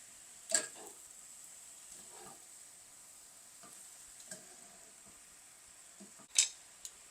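Pappardelle pasta being stirred in a pan with a utensil, faint soft scraping and sizzling with a few sharp clinks of metal against the pan in a quiet kitchen.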